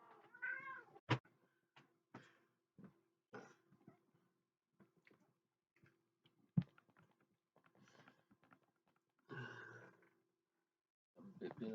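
A cat called Noisy Kitty meows repeatedly in short, separate cries between quiet pauses, with a sharp knock or two and a person speaking softly nearby.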